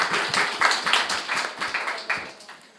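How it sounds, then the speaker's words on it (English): An audience claps at a debating competition, brisk overlapping applause throughout at a fairly loud, even level, with no speech on top. "Clap them."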